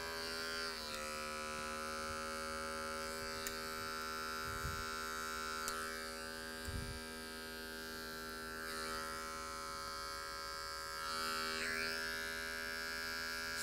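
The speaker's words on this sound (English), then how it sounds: "And a little clipper over comb behind the ear" Electric hair clippers buzz steadily in a barber's clipper-over-comb cut behind a man's ear on fine hair, a close, continuous motor hum with slight shifts in tone as the blades move through the hair.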